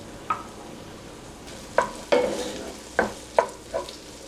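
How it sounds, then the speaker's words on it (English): Corn going into a hot skillet, with a handful of sharp utensil clinks and scrapes spaced out over a faint, steady sizzle, heard close up. "I add the corn to my skillet"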